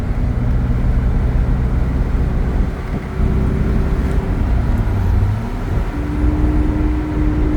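A 1971 big block Corvette Stingray engine pulls through the gears at low road speed, giving a loud, steady, deep rumble from inside the car. The pitch shifts as it downshifts.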